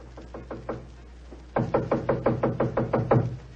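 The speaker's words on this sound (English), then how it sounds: "I raised my hand to knock on what once had been my own living room door" Knocking on a living room door in a radio drama: a few spaced raps, then a steady, rapid run of firm knocks, close and clear with no voices.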